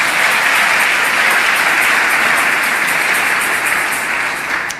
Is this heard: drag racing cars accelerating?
no